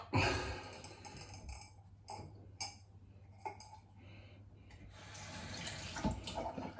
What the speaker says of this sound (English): Get some water in here.